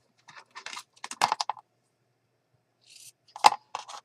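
Scissors cut a small paper scrap for a horse-themed journal page: close, crisp snipping in two short bursts separated by a pause.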